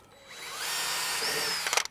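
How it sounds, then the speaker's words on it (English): A power drill bores into a tube for a homemade musical-tube instrument, the motor whine rising steadily and holding for over a second before a few sharp clattering knocks at the end, loud and close with no talk. "Just make sure you drill right towards the top because this one doesn't go down quite as far."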